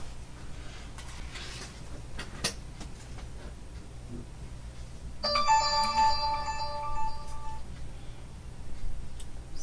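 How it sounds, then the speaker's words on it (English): A phone rings with an incoming call partway through, a clear tonal ringtone bursting in over a quiet room and lasting a couple of seconds before stopping, with faint background noise around it and no talk. "I'll move the phone now that they have called"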